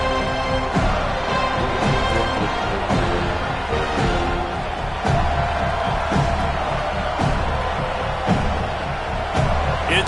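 Football stadium crowd roaring and cheering before a fourth-down field goal attempt, a dense, loud wash of voices holding steady, with sharper shouts and bangs breaking through now and then.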